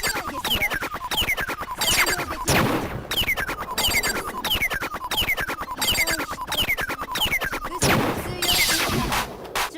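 Rapid machine-gun fire effect from the Machine Gun Talk Battle in the Danganronpa video game, with dense, continuous bursts of rattling shots and repeated sweeping tones, loud and steady throughout with a few heavier crashing impacts.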